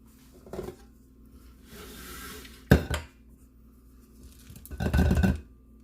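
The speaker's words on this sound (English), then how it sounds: "I'm gonna get in there with my spatula and mix it" A spatula scrapes and clacks through thick cookie dough in a bowl, giving a few separate bursts of scraping and knocking with quiet pauses between them and no talk.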